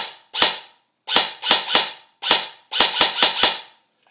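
Colt M4A1 airsoft rifle fired in semi-automatic mode, nine sharp, close, separate cracks in irregular single shots and short bursts of quick successive trigger pulls, with clean silence between.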